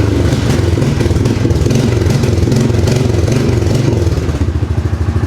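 A worn-out ATV sold as a parts quad, with a busted axle, idles in forward gear with one wheel turning, a loud close chugging engine with steady rhythmic clatter.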